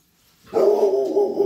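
A single dog bark rings out sharply after a brief silence, close and loud, sustained into a short howl-like tone.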